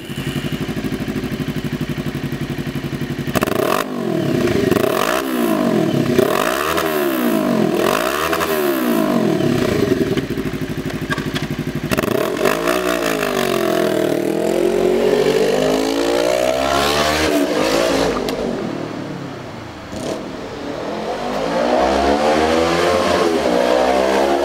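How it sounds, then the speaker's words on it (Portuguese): A Honda Inazuma 250 motorcycle fitted with an aluminium and stainless Jeskap full 2-into-1 exhaust revs close by. Several sharp throttle blips rise and fall in a row, then come longer, sweeping revs and a brief dip before the engine climbs again. "Vamos testá-la para ver o ronco que ficou."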